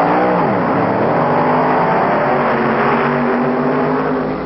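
An internal combustion engine runs loud and close, its droning tone sweeping downward and then holding a steady, even hum throughout.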